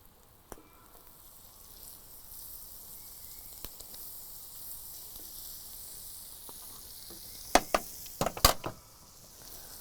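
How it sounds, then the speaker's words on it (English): English muffins toasting in butter in a pan give a faint, steady sizzle, broken near the end by a few sharp knocks and clatters of cookware. "I'm gonna put down a little more butter and toast my English muffins."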